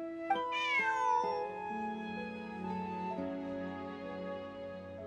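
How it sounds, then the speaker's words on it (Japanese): A cat meows in Genshin Impact, one drawn-out rising mew followed by a steady game music backdrop, fairly close and clear with no talking. "新しく拾ってきた猫かい？"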